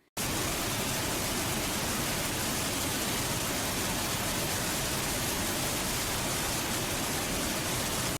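Steady, dense roar of the Rhine Falls in Switzerland, Europe's largest waterfall by volume, a loud unbroken wash of water that holds constant from start to finish with no voices.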